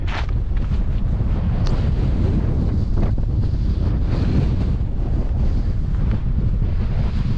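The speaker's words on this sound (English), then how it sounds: "Absolutely freezing cold wind now." Freezing cold wind on an open hill near College Valley in the Cheviots roars and buffets the microphone in a loud, continuous low rumble with gusty surges and no talking.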